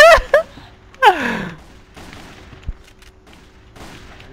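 Gunfire in the online shooter CrossFire, sniper mode with M700 rifles: two sharp, loud shots open the passage, followed by a longer burst of noisy game action and a lower thud, with no talk.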